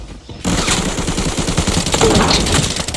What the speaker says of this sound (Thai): แล้วก็ข้างบนเนี่ยพี่แบงก์ก็ยิงไปอีกหนึ่ง